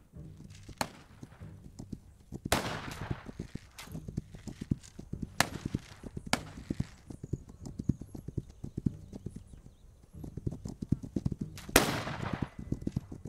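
Gunfire rings out in the survival video game This Land Is My Land, several sharp loud shots spaced irregularly over steady horse hoof clip-clops.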